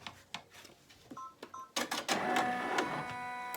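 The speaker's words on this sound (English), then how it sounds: "So now I'm going to send it back to the machine and let it do the final satin stitches." An embroidery machine stitching the final satin stitches on a coaster or ornament, starting with scattered mechanical clicks and beeps, then settling into a steady, fast, whirring stitching run that is fairly faint and heard alone.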